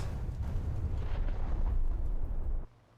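Large bomb detonating after release from a bomber such as a Ju-288 in the War Thunder video game, a heavy sustained rumbling blast with deep low roar that cuts off abruptly near the end.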